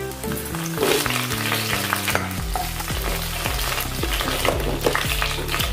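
Dried red chillies and curry leaves fry in hot oil in a pan, a loud, steady sizzle and crackle that runs throughout with no talking.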